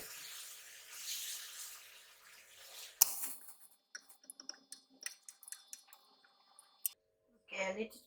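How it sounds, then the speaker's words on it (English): About three cups of water pour into a cooking pot of kacang pool gravy, a steady soft splashing stream for a few seconds, then sharp kitchen clicks and clatter. "Now I'm going to add in about 3 cups of water."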